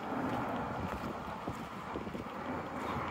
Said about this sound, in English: I've got a lot of wind coming at me here